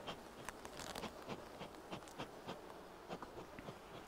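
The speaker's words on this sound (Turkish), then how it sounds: "Birkaç arı bana kafaya taktı." Honeybees buzz around an open beehive during a honey harvest, producing a faint, steady hum of insect wings with small patters and ticks close by.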